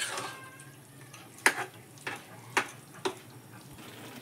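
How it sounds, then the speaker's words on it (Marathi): Carrot halwa being stirred in a pan after milk is added, a low bubbling simmer under four distinct spoon knocks spaced about half a second apart, close and fairly quiet. "बघा आता दूध घालून आपण 5-6 मिनिटं आता पूर्ण हलवून घेऊ।"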